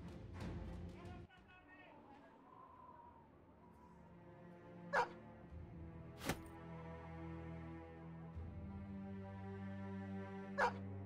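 War dogs in the Battle Brothers video game let out a few sharp barks and yips over a sustained, tonal game backdrop, with separate loud bursts spaced several seconds apart.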